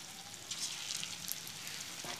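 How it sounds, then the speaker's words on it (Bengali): Chicken pakoras frying in hot oil give a steady, close crackling sizzle throughout the short stretch, with no talking over it. "এই দেখো তেলেতে আস্তে আস্তে তেলটা গরম হতে পকোড়াগুলো ভেজে নিচ্ছে"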